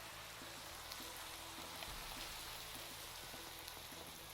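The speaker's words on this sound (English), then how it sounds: "Ugh, it's raining again." Rain in the video game Voxel Tales falls as a steady, even hiss with soft patter, faint and unbroken throughout with no voices.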